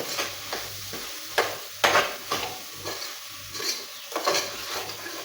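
Masala frying in a pan on the stove, a steady sizzle broken by repeated scraping stirs of a spoon against the pan, fairly close and with no talking.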